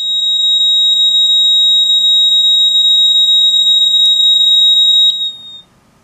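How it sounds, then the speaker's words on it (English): Titan II missile silo blast door control panel buzzer sounding a loud, steady high-pitched tone for about five seconds, then wavering and cutting off as its capacitor charge drains. "the reason that the beeper does that is because as the remaining charge on the capacitor is bled off by the rest of the circuit and by the buzzer"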